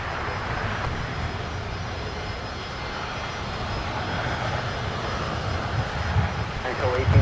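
A Cathay Pacific jet airliner rolls for takeoff at LAX, a broad steady engine roar that swells gradually toward the end, heard from a distance with faint background voices.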